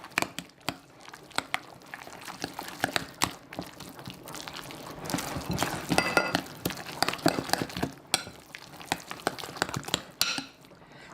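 Pasta shell filling stirred in a bowl with parsley and basil, a run of close, quick scraping taps and clinks of a utensil against the bowl that grows busier midway, with no one talking.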